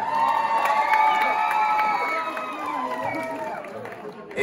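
An audience at a Punjabi music event cheers and shouts, a sustained wash of whoops and raised voices that fades slightly toward the end.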